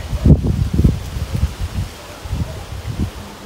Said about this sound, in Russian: Небушка. Ветер.